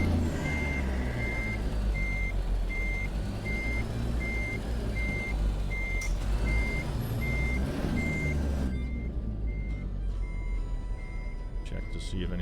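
Freightliner Cascadia truck in American Truck Simulator sounding steady, evenly spaced reversing beeps over a continuous low engine rumble, with a hiss near the end as the beeping carries on.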